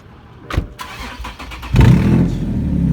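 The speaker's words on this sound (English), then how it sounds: "Yeah, you got an exhaust leak already." Chevrolet Cobalt engine cranking and catching, then settling into a loud, raspy idle with the ticking, blatty roughness of an exhaust leak, close to the car.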